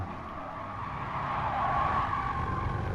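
A steady, roaring race car engine in the video game GT Sport, with a faint whine of tires, growing slightly louder over a few seconds, with no voices.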